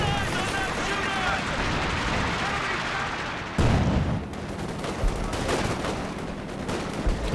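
A major artillery barrage in the real-time strategy game Company of Heroes 2 during a 2v2 match: dense, continuous rumbling blasts and crackling impacts. A sharp, louder burst comes midway, with a commentator talking over it throughout.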